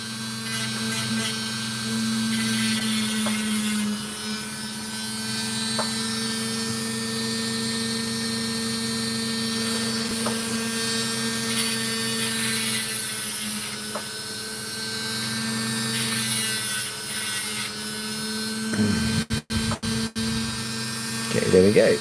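A small high-speed power tool grinds and carves Lightning Ridge opal with a continuous whining buzz over a low steady hum, stopping briefly near the end, close and loud with a voice talking intermittently.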